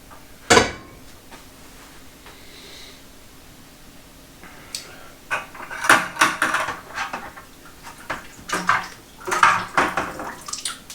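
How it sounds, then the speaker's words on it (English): Lemon ginger mead mixture is poured through a strainer into a bucket, a sharp knock followed by uneven splashing and gurgling pours that swell and fade in close, wet bursts. "now we're just going to pour the mixture over the bucket, over the strainer."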